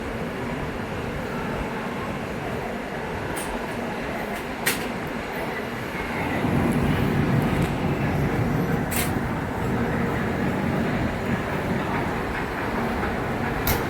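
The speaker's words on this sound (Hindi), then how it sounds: "ट्रेन का डिपार्ट होते हुए लखनऊ जंक्शन।" A train departing Lucknow Junction rumbles along with rolling wheel noise and occasional clanks and squeals, growing louder midway as it gathers motion, no talking over it.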